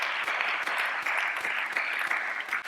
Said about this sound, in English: we need a big round of applause for these finalists